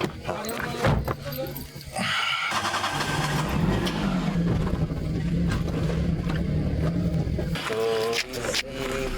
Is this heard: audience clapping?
no